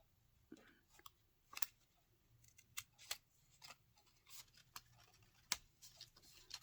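Scissors snipping paper while cutting a journaling tuck spot, a series of short crisp close snips spaced irregularly across a quiet background, no talking.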